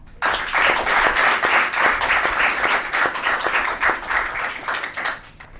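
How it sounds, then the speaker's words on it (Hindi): An audience claps warmly at the opening of a televised program, a full burst of dense hand clapping that rises quickly, holds steady and fades out at the end, with no talk over it. "आप सबकी भरपूर तालियों में।"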